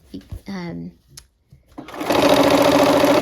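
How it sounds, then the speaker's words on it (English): A sewing machine back stitches fabric with the needle down, starting up after a few seconds of brief talk and clicks and then running steadily and loudly to the end. "I'm gonna go ahead and put my needle down because I'm gonna be back stitching too"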